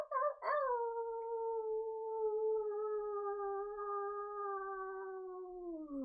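People imitate a wolf howl during a group team meditation, one long sustained voiced howl rising sharply at the start and then holding a steady tone for several seconds before sliding down at the end, loud and close, with no other talk.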